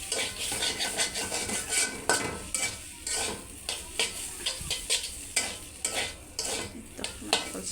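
Spice mix being stirred into noodles in a wok, with a steady scraping and clinking of utensil on metal pan under a soft sizzle, repeated in quick strokes close by.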